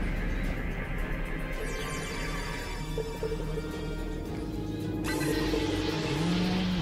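Starship impulse engines in the Star Trek Online space game give a steady, loud droning hum with a low rumble, holding throughout, and a brighter swell joins near the end.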